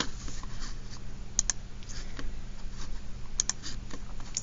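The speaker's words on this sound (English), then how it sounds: "let's go ahead and type it into our answer" Someone types an answer on a computer keyboard, a close run of light, quick key clicks with a few sharper taps, alone without talking.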